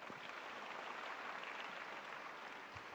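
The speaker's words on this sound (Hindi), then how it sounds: "एक बार जोरदार तालियां हो जाए।" A crowd at a public programme for children of construction workers claps together, a faint, distant, even patter of applause that holds steady for a few seconds.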